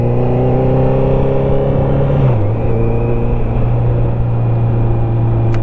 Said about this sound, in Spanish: si tienes 4 cilindros y la capacidad de que tu motor suene así